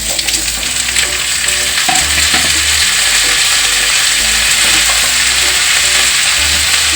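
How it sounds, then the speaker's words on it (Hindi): Potatoes frying in hot oil with garlic and chili for methi aloo, a steady loud sizzle with scraping stirring noises throughout, no voices. "अब इसी टाइम को हम इसमें आलू भी डाल देंगे।"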